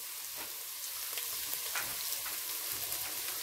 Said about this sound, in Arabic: هبدا بقى دلوقتي احط له الصلصه